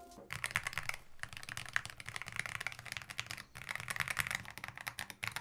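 Steady, fast typing on a MonsGeek magnetic Hall effect keyboard, the keystrokes close and crisp in a dense clatter with brief pauses, fairly quiet overall.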